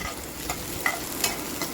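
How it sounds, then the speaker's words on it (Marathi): Onions fry in oil in a kadhai, giving a steady close sizzle broken by a few sharp stirring scrapes, with no voices. "सगळ्यात आधी कढईत टाकले मी तेल आणि कांदे भाजून घेणार आहे."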